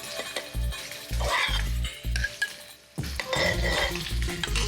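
Food sizzles and fries in a pan on a restaurant hotel kitchen stove while it is stirred. Steady close frying noise runs throughout, broken by regular scraping and clattering of utensils against the pan, with no talk.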